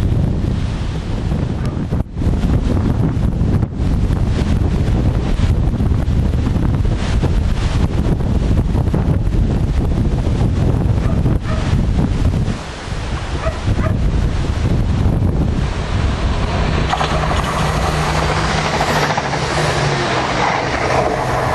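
Strong wind roars and buffets the microphone throughout, a loud, continuous rumbling blast with gusty swells and no pauses.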